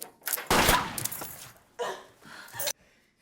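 Gunshots ring out in a film scene as a police officer fires, loud separate bursts with short gaps between them, ending in near silence.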